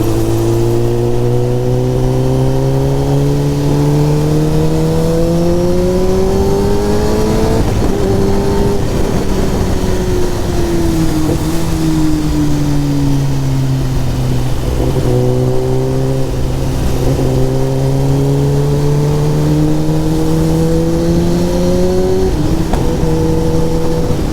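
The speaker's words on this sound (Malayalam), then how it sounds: "എൻ്റെ ഒരു ഡ്രീം തന്നെയായിരുന്നു ഈ ഒരു ബൈക്ക് ഓടിക്കണം എന്നുള്ളത്" A Kawasaki Ninja ZX10R sport motorcycle engine revs loudly and close by, its continuous tone repeatedly climbing and dropping in pitch as the throttle is worked, with no talking.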